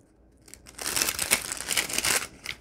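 A paper bag made for a junk journal is crinkled by hand close up, giving a dense run of crackling, rustling bursts after a quiet start.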